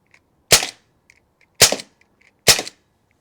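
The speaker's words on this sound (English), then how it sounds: "now it's just a matter of shooting" Three loud, sharp shots from a SIG MCX Canebrake airgun, each a crisp crack about a second apart with quiet pauses between and no talking.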